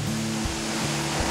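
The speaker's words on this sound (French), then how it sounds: "Les vagues sont pas trop dures à négocier." Ocean waves rush around a racing sailboat on a round-the-world voyage, a steady close roar of water with a few tonal hums running beneath it.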